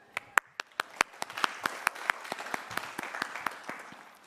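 At a Lincoln University commencement for the class of 2021, a graduation crowd starts with a few sharp, scattered claps that quickly thicken into steady applause.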